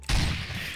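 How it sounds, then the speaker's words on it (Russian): Gunfire in a Minecraft sniper game: a sudden dense burst of shots starts almost at once and holds at high volume for the rest of the short stretch. "Мне ведут огонь, стрельба."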